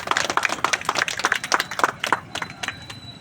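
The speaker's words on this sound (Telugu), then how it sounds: "అందరూ చప్పట్లు కొట్టాలి" An audience at a free clay-idol distribution event claps in a brief, uneven burst of sharp hand claps, moderately close and fading out toward the end, with no talking over it.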